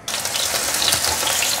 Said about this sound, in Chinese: 锅内再放入少许的油来煎山药，油微热了，把山药放进来